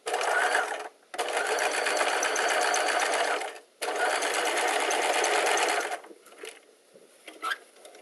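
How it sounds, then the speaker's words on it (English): Sewing machine stitching along a garment's shoulder seam, running in two long continuous bursts of rapid mechanical whirring with a short pause between, then stopping into a few quiet clicks and handling sounds. "So you're just going to sew it right along the shoulder."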